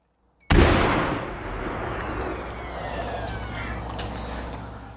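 A sudden loud blast of colliding explosions detonated outdoors, a sharp onset after brief silence followed by a long rolling roar and rumble that slowly decays, with faint whistling tones trailing through the tail.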